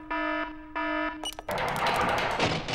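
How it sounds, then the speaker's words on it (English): A burglar alarm protecting a diamond sounds off during a test, first two steady electronic tones, then a loud continuous harsh ringing that fills the rest, close and with no talk. "I'm just showing these boys our alarm system and how well protected our diamond is."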